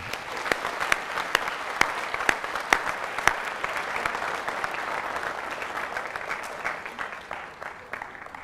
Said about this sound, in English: let's give him a round of applause before we begin